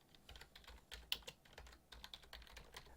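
A computer keyboard is typed on in a quick, irregular run of soft, close clicks, with a few sharper keystrokes standing out, in a quiet room.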